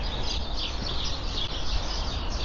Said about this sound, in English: The birds are going crazy, and it's starting to rain.